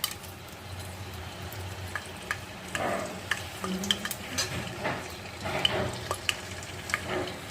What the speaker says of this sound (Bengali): এবার আমি তেলের মধ্যে দিয়ে দেব দেখো এখানে আছে তেজপাতা